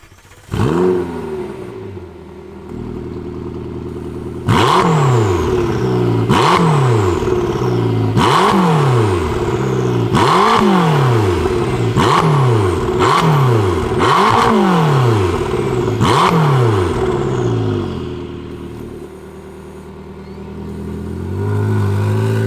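A 2021 McLaren GT fires up with a sharp starter burst, settles into a steady idle, then gives a series of about eight rising and falling throttle blips, loud and close, before easing back to idle; no one speaks.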